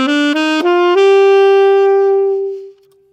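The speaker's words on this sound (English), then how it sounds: "so this is called the E Phrygian scale" Guitar playing part of an E Phrygian scale, close and clear. Four quick rising notes are followed by a final note that rings out long and slowly fades to silence.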